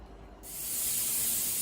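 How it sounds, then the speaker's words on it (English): Steam vents from a pressure canner used for canning mini sweet peppers, a steady loud hiss that swells after a quieter start and holds close and constant with no talking. "so we've been venting for 10 minutes now. I'll let you see the steam."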